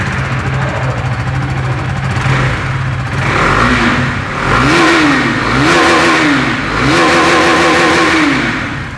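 A KTM RC 390 motorcycle's exhaust, loud and close, idling briefly and then revved in three rising, sustained pulls with drops back between them, heard alone.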